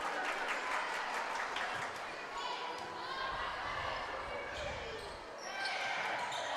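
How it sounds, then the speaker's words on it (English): A packed gym crowd at a varsity high school volleyball match on senior night roars and applauds after a point, loud sustained cheering with scattered claps and shouts, plus an announcer talking over it. "Crowd just exploded after that ball landed"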